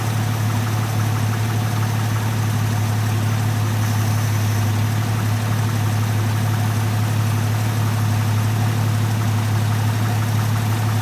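A Studebaker truck engine idles on its own, steady and loud up close. It gives a continuous low, even rumble with no change in revs.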